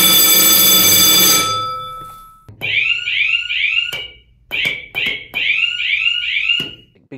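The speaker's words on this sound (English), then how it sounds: "The alarm bell is a local alarm. It's a literally a clanging like school bell type alarm very many times." An elevator's local alarm sounds loudly and nearby, first as a sustained ringing tone, then as repeated bursts of clanging, school-style bell rings with short pauses between them.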